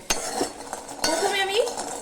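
Dry lentil dumplings (bori) tossed in a hot wok before any oil is added, producing a few sharp metallic clinks and scraping stirs against the pan, close and brief.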